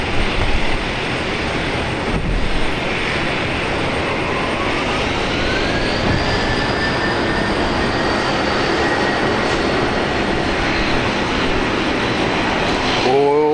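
A Boeing 787 airliner at Brisbane Airport gives a steady jet roar with a faint rising whine, moderately distant and continuous, as a brief voice-like burst is heard near the end.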